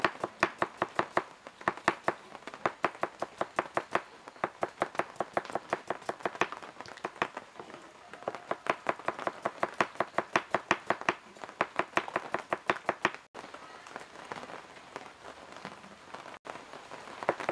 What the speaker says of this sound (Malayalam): സവാള ചെറുതാക്കി അരിഞ്ഞെടുക്കുക